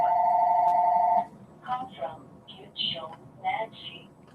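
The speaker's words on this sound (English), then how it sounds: "looks like the phone's ringing" A telephone rings once with a bright electronic tone, then stops as a person starts talking nearby.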